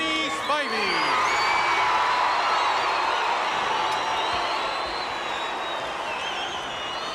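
A big wrestling crowd at Boston Garden applauds and cheers in a dense, sustained roar of clapping and whoops that stays loud and even throughout, with no clear speech above it.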